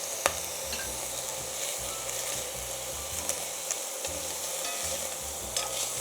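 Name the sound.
coq au vin ingredients frying in butter in pan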